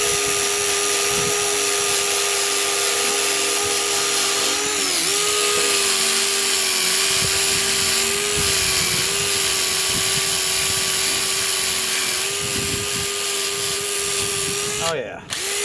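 Wire brush wheel on a grinder scrubbing a metal lawn roller, a loud steady high-pitched whine with a gritty scraping edge that holds for the whole stretch, with a short drop near the end.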